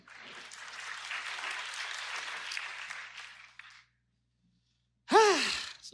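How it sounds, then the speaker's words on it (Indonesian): Congregation applause at a Sunday church service, starting late and swelling into a sustained round of clapping that fades out, followed by silence and then a brief loud vocal sound. "Kenapa tepuk tangannya delay gitu?"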